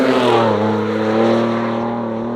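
A Ford Ranger Raptor on KO2 tyres drives around a dry track, its engine droning loud and close with a steady low harmonic hum that eases slightly toward the end.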